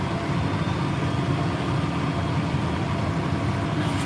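John Deere tractor engine running while mowing hay, a steady low rumbling drone with constant mechanical noise, heard from close up in the cab with no speech.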